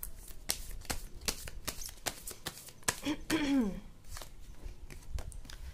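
Tarot cards shuffled by hand with quick riffling clicks and rustles in a steady rhythm, close and moderately loud, with a brief voiced sound in the middle.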